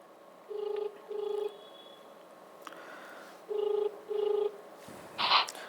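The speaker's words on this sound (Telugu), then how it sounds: "మరొక అభ్యర్థికి ఫోన్ చేద్దాం." An outgoing phone call to a BSP candidate, where two pairs of ringback tones sound clearly after a faint dialing click, followed by a short rustle at the end.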